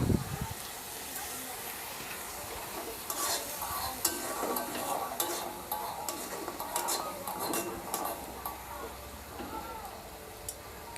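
Onions and masala frying in a pan for chicken kosha, with a soft sizzle, repeated scraping and clinks from a spatula stirring against metal, and a voice talking over the cooking.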